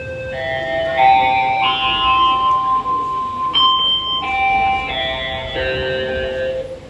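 A school bell or chime signals break time with a sequence of clear, sustained electronic tones stepping through a short melody, loud and close with no talk over it.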